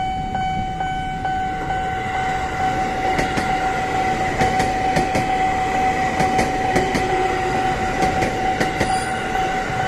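A KRL commuter electric train rolls past a railway level crossing in Menteng, with steady rail rumble, rhythmic wheel clicks and a continuous high crossing warning tone ringing throughout.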